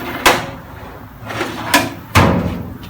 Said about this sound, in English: These drawers work a little smoother for some reason.